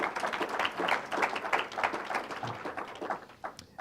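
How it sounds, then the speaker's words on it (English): A moderately quiet round of audience applause at a startup demo day, many hands clapping in a steady, even patter for the accelerator companies. "So a nice round of applause for the 4 accelerator companies."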